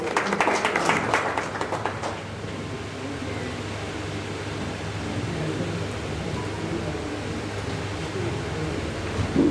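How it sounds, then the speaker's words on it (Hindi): A crowd at a village felicitation ceremony claps to welcome a speaker in a brief burst that fades after about two seconds into a low room murmur. "जोरदार तालियों से स्वागत करिए।"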